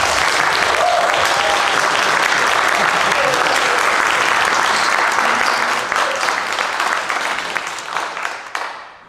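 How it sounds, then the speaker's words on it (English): Dense, loud audience applause at a film showcase for the filmmakers, a sustained wash of many hands clapping that holds steady and then tapers off near the end. "So, round of applause."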